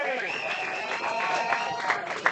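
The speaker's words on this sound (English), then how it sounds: "Reimers getting applause here" Fans at a baseball game applaud their pitcher, a steady spread of clapping from the stands heard under a commentator's voice.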